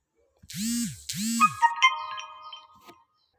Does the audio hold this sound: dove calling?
no